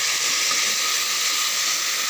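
Water splashed into a hot pan of cooking kasuri methi (dried fenugreek) sends up a loud, steady hiss of steam that holds unbroken from start to finish.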